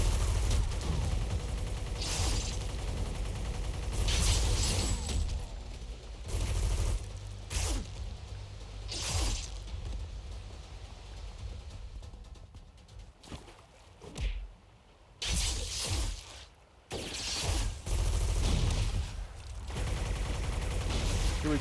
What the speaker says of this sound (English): we're going to get a lot of glue guns shot at us with these guys